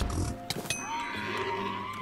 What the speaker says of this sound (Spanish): Vale, caballo.